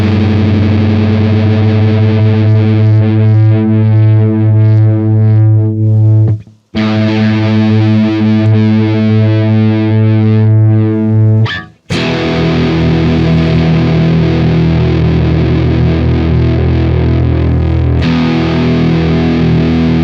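A distorted electric guitar rings out sustained open notes as it is tuned by ear from drop D to standard E. The notes are loud and pass through effects, with brief breaks between strums.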